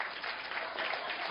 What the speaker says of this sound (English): Come on, clap so no one can look at you.